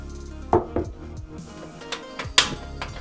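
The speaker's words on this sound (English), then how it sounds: "I'm also saving and slicing up the mushrooms to add to the batter" Shiitake mushrooms sliced with a knife on a cutting board, a handful of separate sharp taps and thuds spaced irregularly, close and fairly quiet.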